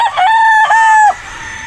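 A gamefowl rooster on a farm gives one loud, close cock-a-doodle-doo crow in two drawn-out pulses, ending abruptly into quiet.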